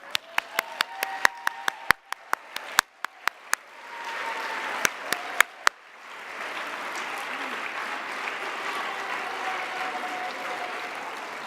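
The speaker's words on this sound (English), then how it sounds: "please stand for a round of applause" Audience at a Hadassah chapter awards ceremony applauding members as they stand; a few sharp isolated claps at first, then a steady sustained wash of applause from the room.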